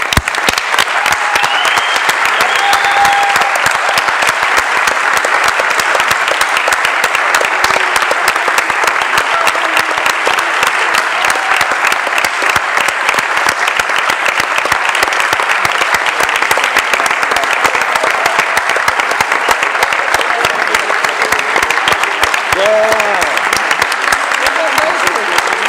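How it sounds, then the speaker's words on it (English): Sustained applause from a conference audience at a sustainable development research society meeting, a dense, steady clapping that fills the room for the whole stretch without pause. "A big applause."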